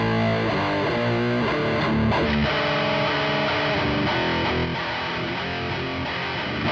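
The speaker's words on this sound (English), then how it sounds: "Some modern death metal." Heavily distorted electric guitar through a Laney IronHeart amp simulation by Aurora DSP on iOS plays a modern death metal riff, with dense, loud, chugging chords that run continuously and with no voices.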